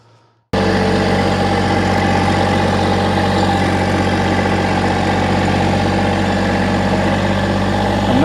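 A tractor's engine starts up loud and then runs steadily at a constant idle-like drone, close by, while gravel is scooped on a drainage project.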